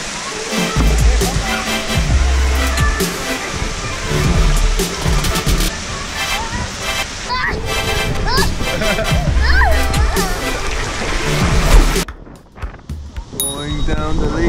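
Water splashing and rushing along a lazy river and water slide at a Disney Aulani resort, loud and continuous with a family talking over it.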